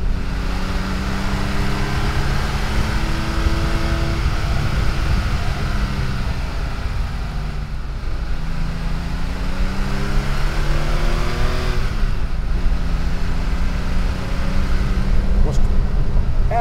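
An air-cooled 1976 Porsche 911 cruising on a country road, its engine giving a steady, rising and falling drone throughout while someone talks over it.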